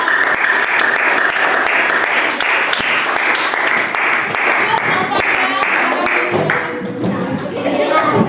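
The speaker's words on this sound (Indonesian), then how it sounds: "kasih tepuk tangan dulu untuk kelompok" Steady applause from a classroom full of students for a presenting group, clapping continuously for several seconds with a few voices mixed in.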